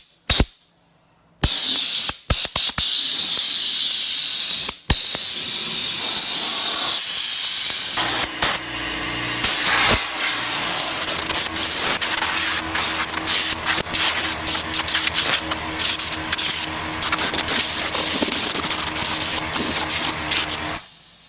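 Rust-proofing product sprays from an adjustable nozzle in a loud, steady hiss. It starts and stops a few times early on, then runs long and continuous.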